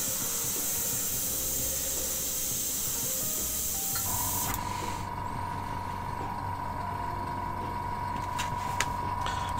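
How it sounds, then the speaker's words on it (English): An airbrush sprays paint onto a miniature model, giving a steady, close, continuous hiss of air that runs for the whole stretch with no talking and a slight shift in tone partway through. "bring the airbrush over to the miniature with the air running through, and then apply the paint"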